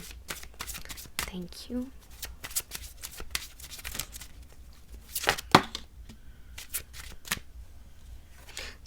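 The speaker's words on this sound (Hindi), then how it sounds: "मुझे और एक बार शफल करनी होगी" Tarot cards are shuffled by hand in bursts of crisp riffling and slapping, close and fairly loud, interrupted by brief pauses while someone speaks softly in between.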